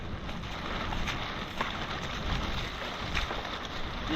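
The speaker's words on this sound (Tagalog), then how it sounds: "Lakas ng hangin utol." Strong wind buffets the microphone in a steady, rushing roar with gusty surges, loud and close throughout.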